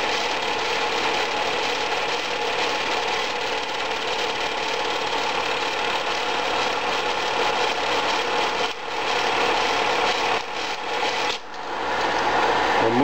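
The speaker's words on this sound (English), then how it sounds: "Put it in reverse here, and we'll show you the rewind function of this in just a moment." A Bell & Howell Model 497A film projector runs in reverse for rewinding, giving a steady, loud mechanical whir and rasp that continues throughout with a couple of brief dips near the end.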